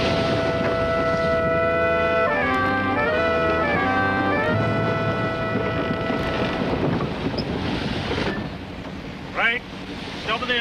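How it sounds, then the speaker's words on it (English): A fishing boat engine drones steadily under wind noise out at sea, with tonal mechanical hums that shift partway through before the running fades lower near the end. "He'll be all right when the engine stops."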